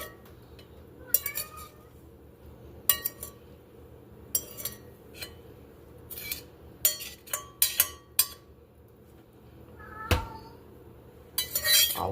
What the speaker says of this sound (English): we're going to spoon it all into the cloth